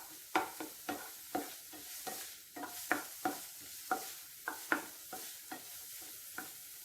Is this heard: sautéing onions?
yes